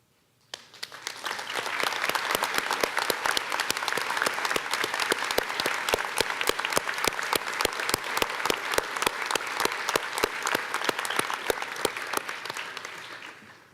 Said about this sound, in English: please stand so that we may recognize you with a round of applause